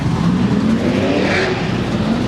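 A drift car with a roughly 440 cubic inch LS V8 holds a loud, continuous engine roar that shakes the bodywork, up close and dominating throughout.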